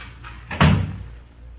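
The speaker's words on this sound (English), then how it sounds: "But close that door, please." A single solid door thuds shut, a short muffled knock with a brief low boom, alone and close in an old radio drama.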